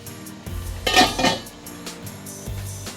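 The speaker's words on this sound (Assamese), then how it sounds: "এইটো মই ঢাকনি মাৰি দিম" A metal lid set onto a cooking pot of Assamese mutton curry on a gas stove, giving a couple of close clinks and rattles of metal on metal amid faint kitchen noise, with no talking.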